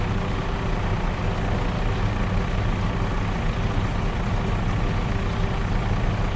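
A truck engine idles in Farming Simulator 22, a steady low rumble that holds evenly at moderate loudness with no talk over it.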